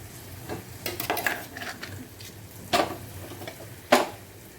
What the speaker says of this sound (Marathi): मला सुद्धा तेलामध्ये असं चांगलं परतून घ्यायचं आहे